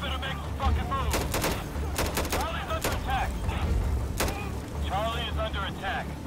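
Gunfire crackles in the video game Insurgency, several sharp bursts and single shots with mechanical clicks between them, under a person's voice speaking through much of it.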